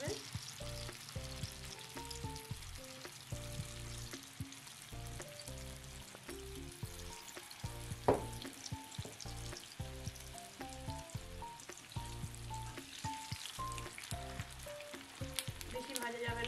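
Prepared egg nests for a bird's nest snack fry in hot oil until light brown, producing a continuous bubbling sizzle with scattered crackles over a steady music bed, one sharper clack midway.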